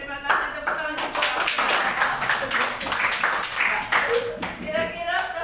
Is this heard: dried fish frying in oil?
no